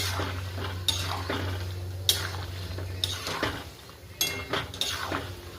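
A metal spoon stirs and scrapes fried coconut in hot oil in a pan during spice-masala cooking, with sharp clinks against the pan and a soft background sizzle and hum.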